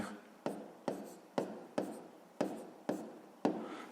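Numbers being written by hand in a fifth-grade math exercise: seven evenly spaced, sharp scratchy pen strokes, close and clear, with no voices.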